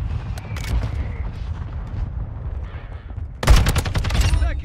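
Rapid gunfire in Call of Duty Modern Warfare 2, a TAQ-56 rifle firing amid a hardpoint match, steady shooting and impacts that swell into a loud, dense burst of close automatic fire near the end.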